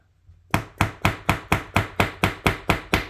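A hammer taps the pivot of a QSP Canary knife with a G10 handle and 14C28N blade, striking eleven sharp, evenly spaced raps, close and fairly loud.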